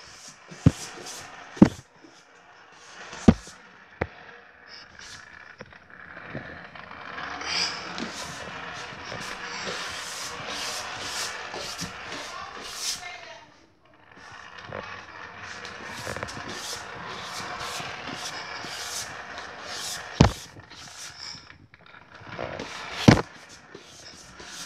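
A car on a test drive, with a low engine rumble and road noise rising and falling across the stretch, dipping briefly midway, with a few sharp thumps and clicks on top.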